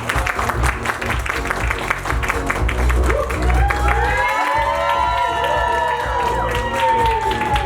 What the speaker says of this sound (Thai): ขอเสียงปรบมือในต้อ นรับครับ